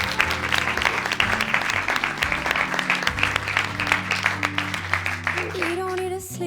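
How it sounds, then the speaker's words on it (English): Audience at a live dating event applauding, a continuous patter of clapping over a music bed, with a voice coming in near the end. "Round of applause, everyone."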